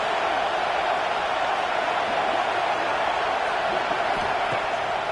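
A stadium crowd roars at a college football video game, a steady, unbroken wash of cheering noise held at an even level throughout.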